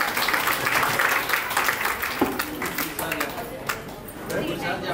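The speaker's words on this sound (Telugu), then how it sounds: "అందరూ చప్పట్లు కొట్టాలి" An audience clapping at a Vinayaka Puja gathering in a residential community, a scattered, moderate patter of hands over steady crowd chatter and nearby talking voices.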